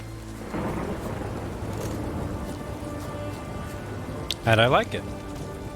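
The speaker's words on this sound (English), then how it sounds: "It's raining, of course it's going to be damp." Steady rain hiss with low rumbling thunder in The Witcher 3, a broad storm bed running throughout, while someone speaks briefly near the end.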